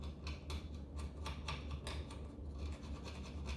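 Glue residue is scraped off a wooden knuckle from an old Steinway piano in quick, close, faint strokes, a rhythmic series of short rasping scratches.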